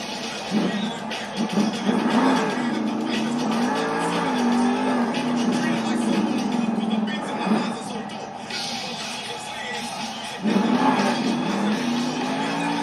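Monster truck engines roar continuously at a Monster Jam arena show in Salt Lake City, loud and sustained with rising revs and a surge near the end, while an announcer talks over the noise.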